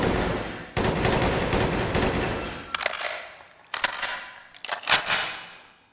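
Rapid gunfire from a weapon in Fallout 4 on survival mode: a dense sustained burst, then several separate sharp shot clusters with brief pauses, loud and close.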